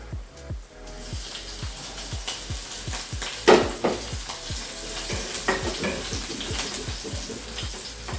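Green chillies hit hot oil with garlic in a pan while noodles are cooked, producing a bright continuous sizzle broken by a run of sharp clicks and spatula knocks.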